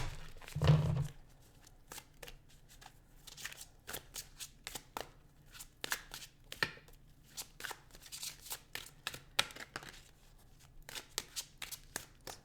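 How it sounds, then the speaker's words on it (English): Tarot deck being shuffled by hand, with repeated soft riffling and slapping bursts of cards in an irregular rhythm, close and fairly quiet in an otherwise still room. "We need another shuffle."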